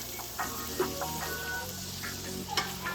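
Diced vegetables sizzle softly in a pan as they cook down, a steady quiet hiss broken by a few light taps and stirring clicks, with no talking.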